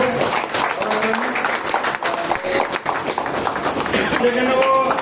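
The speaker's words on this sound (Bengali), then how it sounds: "সবাই তো জোরে হাততালি দেবেন" Audience applause at a company gathering with retailers and wholesalers, a dense rattle of many hands clapping steadily throughout, heard under a voice speaking over it.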